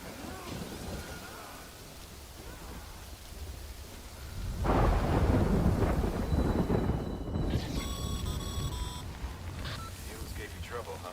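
Rain and rolling thunder in the Death Stranding video game, a steady downpour with a loud thunder rumble swelling midway, a voice talking faintly over it and a few synthetic game tones near the end.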